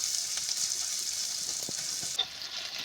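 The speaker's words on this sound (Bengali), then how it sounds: "এইভাবে নেড়ে চেড়ে আমি ভালো করে পেঁয়াজ আর রসুনটা ভালো করে লাল লাল করে ভেজে নেব।" Onion and garlic frying in oil for a Bengali koi fish curry, giving a steady close sizzle with occasional stirring scrapes and one sharp utensil tick near the end.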